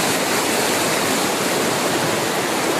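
A high, flooded river rushes past in a dense, continuous roar of churning water, loud and close with no letup.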